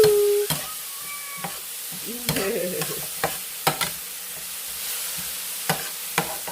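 Broccoli stir-fries over high heat for shrimp taco bowls, a moderate sizzle under repeated spatula scrapes and pan knocks, with no talking.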